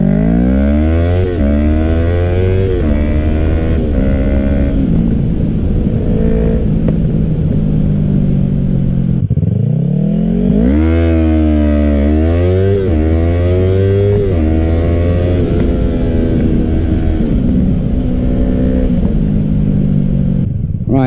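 A Yamaha motorcycle, either an R3 or a restricted MT-07, accelerates hard through the gears in a 0-60 mph drag run. Engine pitch climbs and drops with each gearshift, loud and close throughout, with no talk.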